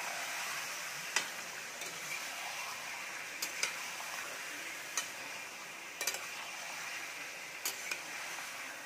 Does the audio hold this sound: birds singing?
no